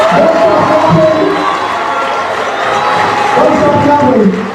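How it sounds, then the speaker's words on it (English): Large outdoor crowd at a political event cheering and shouting loudly and continuously, with some clapping mixed in and voices rising and falling throughout. "Please don't stop clapping."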